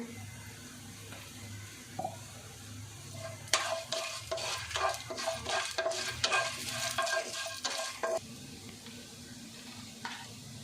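Cumin seeds sizzle in hot oil in a pan while being stirred for curry leaves rice, a steady frying hiss under a burst of scraping stir strokes midway, with no talking.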